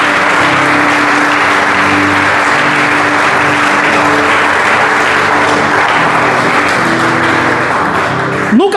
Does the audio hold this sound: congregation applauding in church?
yes